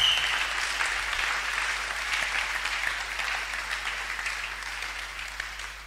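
Sunday church congregation clapping, a dense, steady round of applause that slowly fades, with no talking over it.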